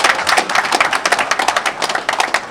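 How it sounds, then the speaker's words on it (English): A round of audience applause at a formal gathering with a high table and organizers in Nigeria, dense clapping from many hands, fairly loud and continuous, with a few sharper individual claps standing out. "I think they deserve a powerful round of applause,"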